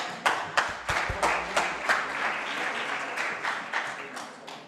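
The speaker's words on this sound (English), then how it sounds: "let's give them an applause" Scattered clapping from a small audience at an international startup incubator challenge, individual claps distinct and irregular, building into a sparse round of applause.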